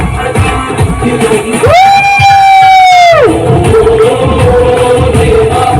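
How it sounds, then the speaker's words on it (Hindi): A crowd at a Ganeshotsav celebration in a residential society cheers and claps loudly nearby, with one voice shouting out a long sustained cry in the middle over the noisy applause. "जोरदार तालियां भगवान"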